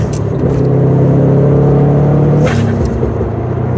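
A Subaru STI engine with Throtl modifications revs loudly and close up, its rumbling drone rising in pitch with wind and road noise underneath.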